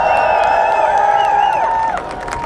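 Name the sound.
crowd applause and cheering at a rally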